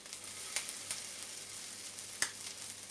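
Egg-coated breakfast pieces frying in a pan, giving a steady, moderate sizzle with a few sharp ticks and pops of a utensil against the pan.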